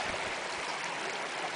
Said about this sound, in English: Many little waterfalls coming down the stream.